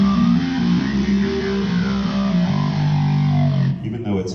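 A heavy, distorted Korg keyboard patch plays sustained low chords in a music shop, a dense, loud tone that holds steadily before cutting off near the end, followed by a faint trailing sound.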